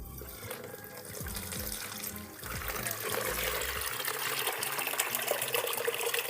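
Water pours from the tap of a simple water filter, a steady splashing stream that grows louder and fuller after a few seconds as the flow strengthens, close by with no talking.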